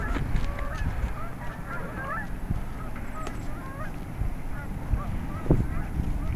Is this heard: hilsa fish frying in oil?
no